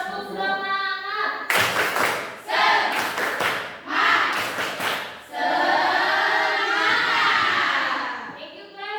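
Classroom of pupils performing a rhythmic Indonesian spirit clap, tepuk semangat, with bursts of clustered claps and shouted chanting, loud and close, followed by a sustained group call.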